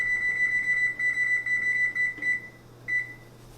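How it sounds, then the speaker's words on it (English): Kitchen timer set beside an oven baking a keto pecan pie, its steady high-pitched electronic tone sounding in several bursts of beeping, close and clear with no talking. "Turn the timer on."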